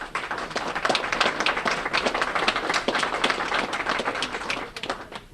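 An audience at a distinguished graduates ceremony claps steadily, a dense patter of many hands that swells and eases slightly over several seconds, fairly close and without pause.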